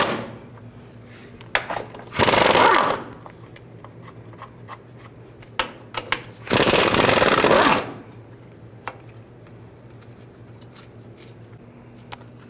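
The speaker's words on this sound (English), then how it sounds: "I'm just gonna take these bolts, they're 15 millimeter, and loosen those up." Ratchet loosening 15 mm bolts on a 2006-2012 Ford Fusion cradle during alternator work, two loud bursts of rapid clicking a few seconds apart, close up, with scattered small metallic taps between and no talking.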